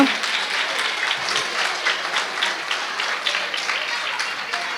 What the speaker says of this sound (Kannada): ಇವರಿಗೆ ದೊಡ್ಡದಾಗಿ ಚಪ್ಪಾಳೆಯನ್ನು ನಾವು